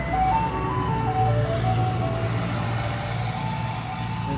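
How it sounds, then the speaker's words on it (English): An ice cream truck's low-pitched Turkey in the Straw jingle plays over a low engine rumble, the tune steady and fairly close, continuing for a few seconds. "There's a different ice cream truck, and it's going fast."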